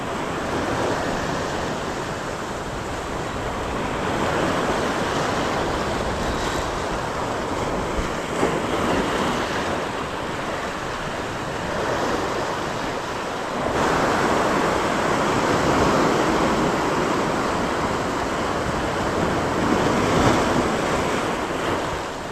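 Sea surf rolls and washes continuously on the shore, a broad roaring rush of water with swells rising and falling, mixed with wind buffeting the microphone.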